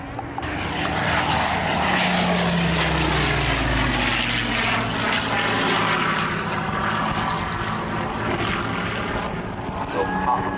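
A propeller aircraft passes overhead at the 2004 Chailey airshow, a loud continuous engine drone with a sweeping pitch change as it flies by, staying strong throughout without speech.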